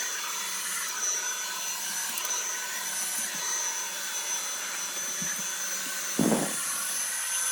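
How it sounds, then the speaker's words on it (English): A Dyson vacuum cleaner with a lit cleaner head runs steadily up close, a continuous whining whoosh with a high tonal hum, and a brief louder thump near the end. "you can see what you're vacuuming underneath stuff"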